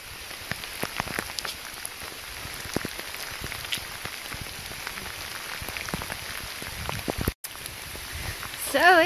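Steady rain falling on a swamp trail, a dense close patter of drops with scattered louder taps throughout and a brief cut out near the end.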